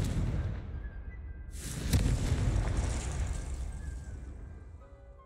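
A Confringo fire spell cast in the Hogwarts Legacy video game: a single sudden explosive boom with a sharp crack, followed by a long rumbling, crackling tail that slowly fades.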